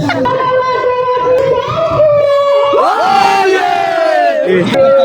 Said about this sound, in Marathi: किती तुफानी गर्दी